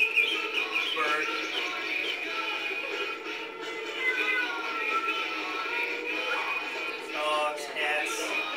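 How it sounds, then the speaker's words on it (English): Bird calls within a song, heard as faint chirps and tweets woven into a dense, steady musical mix without any clear voice. "Bird."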